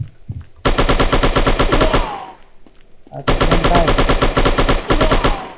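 Automatic gunfire in the shooting video game Striker, including an AK rifle, rattles in two long loud bursts of rapid shots separated by a short pause.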